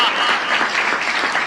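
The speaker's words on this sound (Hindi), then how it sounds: "तालियां कमजोर हैं आपकी" Steady, full applause from an audience at a Hindi poetry recital by Vinod Rajyogi, continuous and fairly loud with a faint voice underneath.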